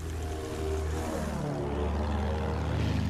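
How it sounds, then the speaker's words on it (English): Propeller plane passing overhead in the video game Battlefield 1, a steady droning engine hum that swells slightly as it flies over, continuous for the whole stretch with no talk. "Oh, plane, plane."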